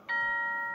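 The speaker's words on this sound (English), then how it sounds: "That's only ding dong. Slightly different ding dong." A wireless doorbell sounds one close, clear electronic ding-dong chime whose bright tones ring on steadily, with no talking over it.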